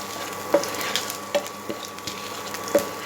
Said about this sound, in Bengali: আদা আর জিরে আমি আবার থার্টি সেকেন্ড ফ্রাই করবো